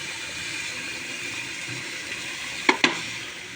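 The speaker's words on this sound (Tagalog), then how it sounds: "Tapos iluto din natin yung mga crabs." Crabs cook in a pan with a steady, even sizzle, and two sharp clicks land close together near the end. No one speaks.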